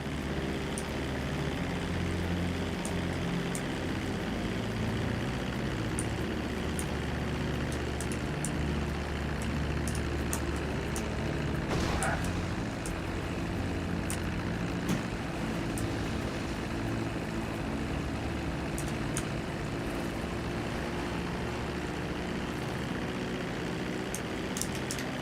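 Airplane engine in a video game, a steady droning propeller hum with a low rumble, continuous and unchanging at moderate loudness, with a brief whoosh partway through.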